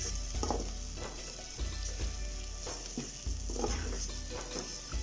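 Blended chicken fries and sizzles in a pan, a steady close hiss broken by several soft stirring scrapes, with no voices over it.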